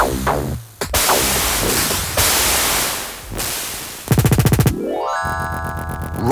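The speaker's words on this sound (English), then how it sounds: "feature the sights and sounds of pounding, gut-wrenching combat" Video game combat effects played through an Ad Lib sound card, harsh synthesized noise bursts, booms and a rapid stuttering rattle followed by descending and rising electronic tones, loud and close with no voices.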